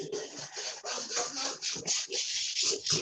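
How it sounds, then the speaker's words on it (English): A spatula scrapes the sides of a bowl while cheesecake batter is mixed, giving close, loud rhythmic scraping and rubbing strokes in repeated bursts with no talk. "Scraping my sides. Mix it good."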